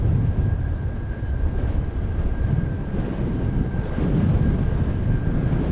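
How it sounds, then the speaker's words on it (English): A Finnair Airbus A350-900 on Flight 19 from Helsinki arrives at DFW, producing a loud, steady, low jet roar with broad rumbling that holds throughout, with no talking. "We're first going to get Finnair Flight 19 from Helsinki, an Airbus A350-900. Just now coming into view."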